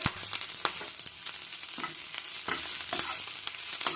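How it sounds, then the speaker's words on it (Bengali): Onion and fresh curry leaves frying in a pan, a steady sizzle broken by sharp scraping stirs, close and fairly loud with no talking. "এটা দিয়ে ভেজে নিচ্ছি একটু ভালো করে"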